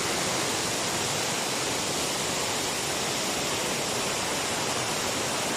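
Waterfall with spring water pouring from its source, a steady, dense roar of rushing water that never pauses, close and loud.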